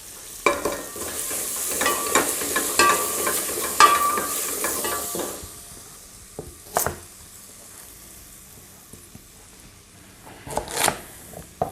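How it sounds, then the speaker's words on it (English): Curry leaves fry with other ingredients in a pan, a steady close hiss and sizzle with stirring scrapes, before the sizzle fades and a few sharp knocks and clatters follow. "I'll add those in, frying with the other ingredients"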